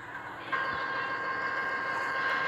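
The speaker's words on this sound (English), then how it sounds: "The train goes at 60 miles per hour in the snow." Train on rails running at 60 miles per hour through snow, a steady loud rumble with a sustained tonal whine that starts abruptly and continues without pause.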